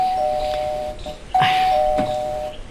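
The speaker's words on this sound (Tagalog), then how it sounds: "May doorbell sila." A house doorbell rings out a bright electronic chime, sounding once at the start and again about halfway through, loud and near against quiet background noise with no voices.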